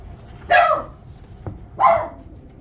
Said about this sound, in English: Sorry about that, the dog got worked up.